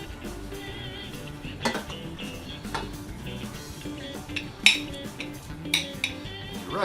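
A utensil scrapes and clinks against a pot and plate while rice is served up for a gumbo meal, producing a few light, irregular taps and clatters at close range with no talking.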